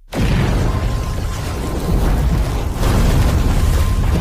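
A bomb explosion in an action film, a sudden loud blast that erupts and holds as a dense, rumbling roar for several seconds without letting up.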